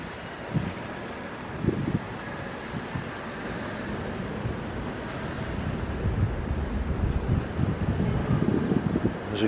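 Wind gusting outdoors around a bug hotel in a garden, a steady broad rushing roar with buffeting microphone noise that builds slightly toward the end.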